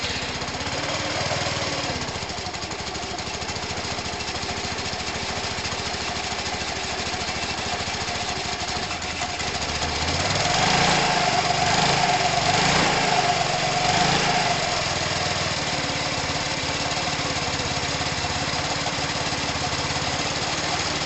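A motorcycle engine with a new stator fitted runs at a steady idle, a continuous mid-pitched mechanical chug that swells slightly in loudness partway through, with no talking.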